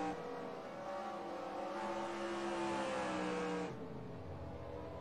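The engine of the No. 27 Winston Cup race car roars as the driver works the clutch at North Wilkesboro. A loud sustained drone shifts pitch and drops off sharply near the end.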